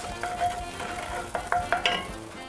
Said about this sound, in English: we're going to fry into this now a 1/4 cup of diced onion